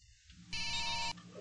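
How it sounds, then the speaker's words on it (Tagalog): A cellphone rings with a steady electronic tone that starts abruptly and holds loud for about half a second before cutting off, over a dim room background. "nag-ring ang iya cellphone."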